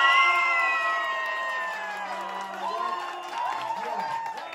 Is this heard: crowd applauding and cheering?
yes